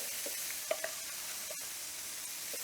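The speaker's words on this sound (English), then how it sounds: "You'll hear it continue to sizzle." Steady hiss of sausage sizzling on a hot iron, continuous and fairly close, with a few faint clicks scattered through it.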